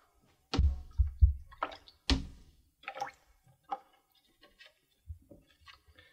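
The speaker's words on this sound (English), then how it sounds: "I drop the negative in some fresh clean water and rinse for at least five minutes" Small drips and light splashes of water come in scattered, close bursts as a photographic negative is dropped into fresh, clean water and rinsed, with quiet gaps between.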